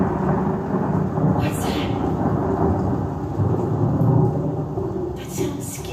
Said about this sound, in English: That's right, that was thunder.